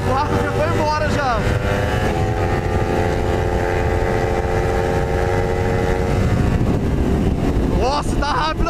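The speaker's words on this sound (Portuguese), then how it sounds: "Nossa, tá rápido a moto, Zé!" Kawasaki Ninja 300 and Yamaha MT-03 motorcycles, one with full remap and power exhaust, roar past at speed with a loud, continuous engine drone and rising revs, voices shouting over it near the end.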